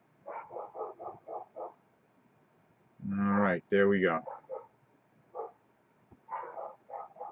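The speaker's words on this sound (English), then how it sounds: "Don't mind the dogs. The UPS guy probably showed up." Dogs bark at the UPS delivery man in quick repeated bursts, with one loud, nearby flurry in the middle, while someone speaks briefly.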